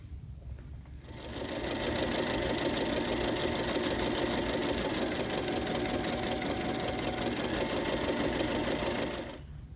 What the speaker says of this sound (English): Now we're going to go to our machine and stitch this hem down on both sides.